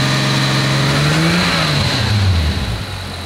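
A turbocharged Toyota Supra engine holds a steady, loud rev on its two-step limiter, the pitch wavering and dipping slightly toward the end, with a continuous rough burble throughout and no talk.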